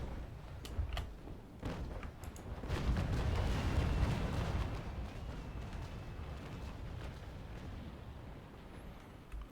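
Ship cannon fire in the naval sailing game Naval Action, with broadside booms from a Bellona ship of the line rolling into a heavy, rumbling swell that lingers and slowly fades, with no voices.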